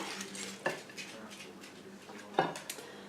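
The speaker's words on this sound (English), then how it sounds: "Now I'm going to try and take it out in one piece with this spatula." A spatula and spoon scrape and clink against a baking dish while a cooked pie is lifted out, with two sharper metallic knocks over a quiet background.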